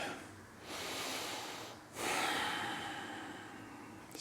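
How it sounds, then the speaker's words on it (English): A person exhales a big, deep, audible breath after finishing a tai chi form, then draws a second long breath. Both are soft, close and unvoiced, with quiet pauses around them. "Big deep breath."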